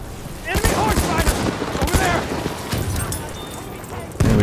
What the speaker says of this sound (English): There we go. Frag grenade.